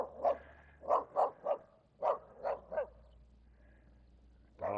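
A dog barks at someone passing on a neighborhood walk in Regina: about seven sharp barks in two loose bursts, fairly close and clear, with quiet outdoor background between them.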